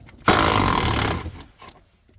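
A T50 Torx seat belt bolt comes out of a Camaro ZL1 interior under a power tool: a loud, close, buzzing rattle lasting about a second, then a few fading clicks.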